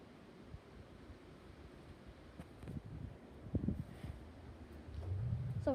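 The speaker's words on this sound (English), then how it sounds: "Here comes a wind gust." Wind gusting outdoors on a very warm day during a wind storm, a rough low roar that builds and swells toward the end, with buffeting bursts against the microphone and no voices.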